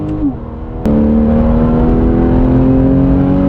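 A Porsche 911 engine revs up sharply to about 6000 rpm and then holds a loud, steady high-pitched drone, heard close up from inside the car.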